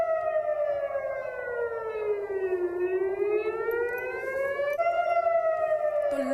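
An air raid alert siren wails across Jammu during a blackout, a loud continuous tone slowly falling and rising in pitch, sounding alone without talk.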